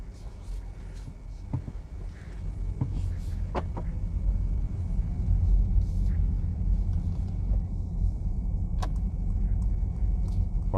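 A Mercedes EQE 43 AMG electric car drives along with a steady low road rumble and tyre noise heard from inside the cabin, with a few faint clicks and knocks over the drone.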